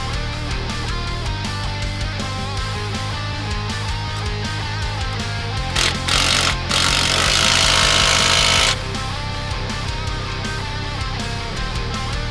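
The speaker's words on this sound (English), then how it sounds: "Secure the link to the A-arm using an 18mm socket and an 18mm box wrench." A power tool rattles steadily while link bolts are tightened with an 18mm socket on the front sway bar links of a Polaris Pro R side-by-side, with a harsher burst midway; loud and close, no talk.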